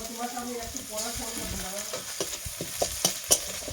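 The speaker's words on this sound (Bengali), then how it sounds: "রসুনটা একটু ভেজে নিলাম, এখন আমি 1 চামচ আদা বাটা দেবো" Garlic frying in a pan for a mustard fish gravy, with ginger paste added and stirred in: a close sizzle broken by repeated scraping and clinking strokes of a spoon, growing sharper toward the end, with a voice briefly speaking.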